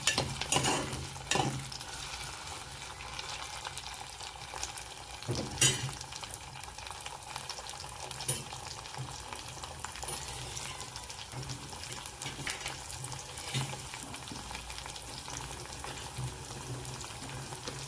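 Chopped potato frying in a pan for seasoned leftover rice, a soft steady sizzle with occasional sharp utensil knocks and scrapes from stirring, fairly quiet, with no speech.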